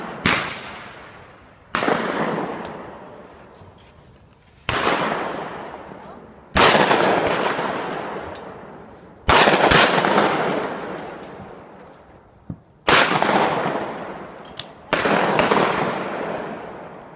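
Shotgun shots fired at clay targets outdoors, seven loud sharp blasts spaced a couple of seconds apart, each followed by a long echoing decay, with voices faintly in the background.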